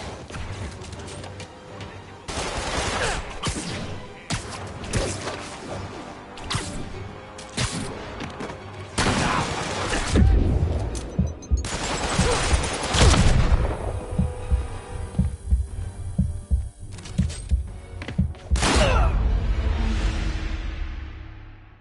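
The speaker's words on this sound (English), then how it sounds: "Open fire! Shoot him down already!" Enemy gunfire in the Spider-Man PS4 video game: loud bursts of shots and booming impacts come in repeated waves over a dense, busy game soundscape with no talking.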